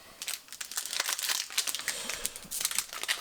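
A 2023 Panini Elite Extra Edition baseball card pack is torn open, with a close, continuous crinkling and crackling of the foil wrapper for a few seconds.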